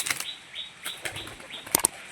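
Pigeons beat their wings in a few quick, soft flapping bursts close by, with brief sharp clatters near the end.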